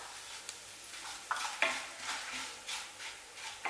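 Curry leaves are dropped into a pan of stirring moong dal for a Bengali pumpkin dish, giving soft sizzling with a few sharp crackles and the scrape of stirring, fairly quiet and with no talk.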